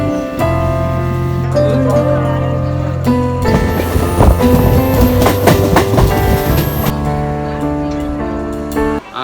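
A suburban train runs from Avadi toward Chennai Central, giving a steady, loud rolling rumble with rhythmic wheel clatter and tonal whines from the carriage. The sound continues throughout with no clear talk.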